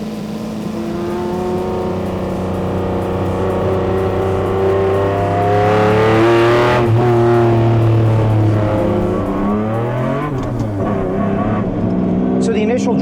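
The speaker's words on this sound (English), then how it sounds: "This 6-liter engine, independent throttle bodies, producing almost 575 horsepower." Lamborghini Diablo GT with a 6-liter V12 and independent throttle bodies, driving in Miami traffic, its engine droning loudly and rising through a rev before settling, close and continuous throughout.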